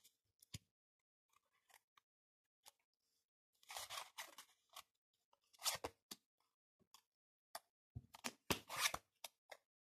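Tarot cards flipped over and laid on a table, heard as scattered crisp snaps and papery slaps in small bursts, close and quiet against a silent background.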